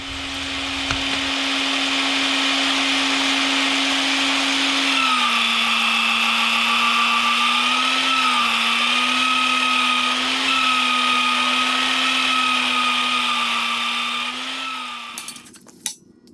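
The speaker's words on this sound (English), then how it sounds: "I'm drilling this with the speed set at between 2 and 3." A power drill set to a low speed of 2 to 3 bores into metal while assembling a Harbor Freight 1-ton gantry crane. It gives a steady, close motor whine for about fifteen seconds, with a slight pitch dip as the bit bites, then stops abruptly.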